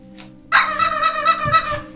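A small pet dog gives a short, loud, tonal bark-like yelp close by, drawn out for over a second after a brief quiet lead-in.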